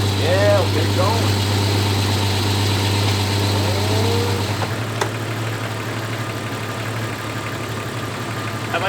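A Jeep Cherokee XJ engine idles steadily close by after radiator and header panel repair, a continuous low hum with a brief revving rise in the middle, while people talk over it.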